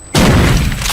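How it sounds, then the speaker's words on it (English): A flashbang grenade goes off in Ghost Recon Wildlands with one sudden loud, close blast that starts after a short quiet moment and stays as a harsh, full roar for the rest of the second. "They stay out here with them flashbangs."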